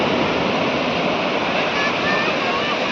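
Sea waves at Porbandar beach wash in as a loud, continuous roar of surf, mixed with wind buffeting the microphone.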